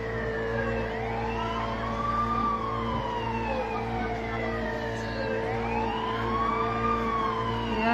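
Fire truck siren wails in repeated rising and falling sweeps as it arrives at a residential fire in Barangay 175, Caloocan City, loud and close over a deep idling engine rumble.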